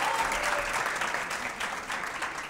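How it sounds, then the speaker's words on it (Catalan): A studio audience at a Terrassa television quiz show applauds a school team, steady dense clapping from many hands that carries on evenly and eases slightly toward the end. "Un aplaudiment també per ells"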